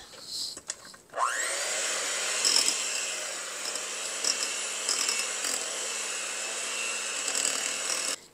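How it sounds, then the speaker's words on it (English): An electric mixer runs steadily in a bowl, blending softened cream cheese into cookie dough for cranberry orange ricotta cookies; a sustained, fairly loud motor whine starts after a brief clatter and holds evenly with no talk over it. "And now I'll just blend again before I add the few other ingredients."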